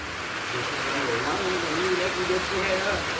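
Rain falls steadily in an even, hissing wash, with a voice murmuring faintly beneath it.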